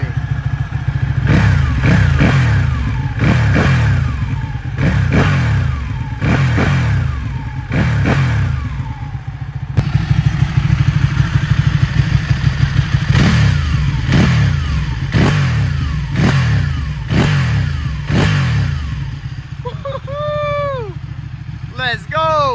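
A Ducati Panigale 1199S motorcycle engine rumbles loudly and close, pulsing in repeated revs with heavy low thumps while riding; brief chirping sounds come near the end.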